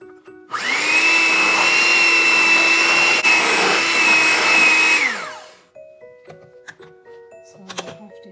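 An electric hand beater whirs loudly and steadily for about five seconds while creaming butter and sugar for a sponge cake, then winds down, followed by faint clinks and scraping.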